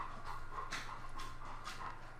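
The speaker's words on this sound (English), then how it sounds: "You can hear my dog in the background." A dog pants quietly in rhythmic bursts with faint whimpers while waiting for dinner, soft and somewhat distant in an indoor room.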